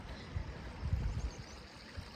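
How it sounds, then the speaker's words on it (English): Waterfall along the Cumbria Way, a steady broadband rush of falling water with low rumbling surges, continuous and fairly close, no voices. "I just found an absolutely amazing waterfall"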